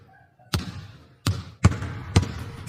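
A ball bounces four times with sharp, loud thuds at uneven intervals, close by, with no talking.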